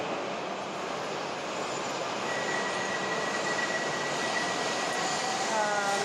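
A Japanese Shinkansen bullet train makes a steady, loud rushing rumble of rail noise that holds throughout, with a thin high whine appearing partway and faint rising tones near the end.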